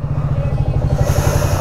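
A TVS Apache 160 4V motorcycle engine idles nearby with a steady low rumbling throb throughout, loud and continuous, with no talking over it.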